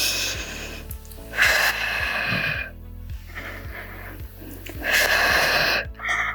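Forceful breaths exhaled during a reformer Pilates workout with a Pilates ring, several rough, breathy bursts rising over a steady low background hum and repeated soft thumps of the machine.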